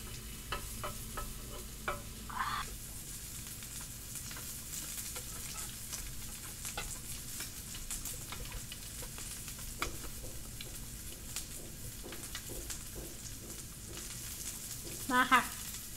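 Pork belly slices grilling outdoors during a rainy storm, giving a steady low crackling sizzle through the whole stretch, with a few sharper pops and spits near the end.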